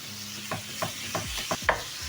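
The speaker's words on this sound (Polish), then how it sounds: "powoli smażymy na średnim ogniu do momentu aż mięso nie będzie surowe" Steady soft sizzle of ground meat frying in a pan over medium heat, broken by five or so scraping stirs of a utensil at a slow, even rhythm, close up with no talking.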